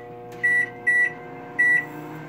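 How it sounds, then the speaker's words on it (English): A microwave oven runs with a steady low hum while three short, loud electronic beeps ring out in quick succession, no talking. "Now we're gonna microwave."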